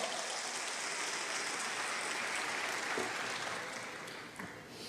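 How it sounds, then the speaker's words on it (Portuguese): A church congregation claps loudly and continuously, a dense wash of applause that fades slightly near the end. "Pode aplaudir bem forte"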